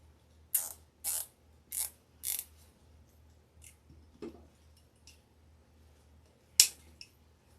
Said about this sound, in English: let's go ahead and secure this with a zip tie